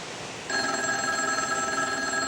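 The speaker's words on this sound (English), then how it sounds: "you can't just wait around for the phone to ring" An old-style telephone bell starts ringing after a brief quiet moment, a loud, continuous metallic jangle that holds steady to the end.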